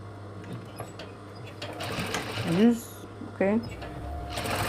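Sewing machine joining the main corset fabric with a small half-inch seam allowance, whirring in a steady run with a brief burst near the end, as a voice speaks once over it.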